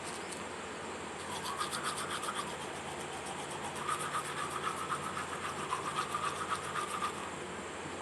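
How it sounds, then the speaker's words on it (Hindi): Teeth are scrubbed with a toothbrush in a steady, rapid back-and-forth brushing rhythm, close and moderately loud, continuing without pause or any talking. "ब्रश व्रश कर लेती हूँ"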